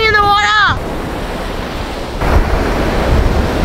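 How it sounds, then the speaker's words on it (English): Strong wind buffets the microphone over a steady roar of surf at Culburra Beach, with a brief whistle-like tone at the start and the rush growing louder near the end. "It's very windswept and windblown."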